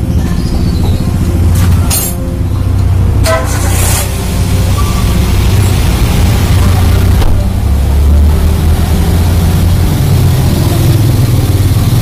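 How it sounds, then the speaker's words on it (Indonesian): Toyota Avanza / Daihatsu Xenia engine idling after throttle body cleaning and ECU reset, a loud, close, steady low hum that continues evenly throughout, with a few brief clicks and knocks near the start. "Kita tunggu RPM sampai di bawah 1000 untuk mengetahui apakah mesin benar-benar normal."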